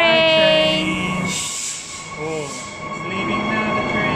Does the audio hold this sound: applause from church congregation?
no